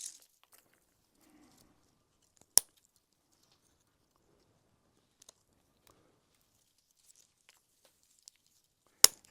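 Pruning shears clip growth off a bonsai tree, giving a few isolated sharp snips spaced seconds apart in an otherwise quiet setting.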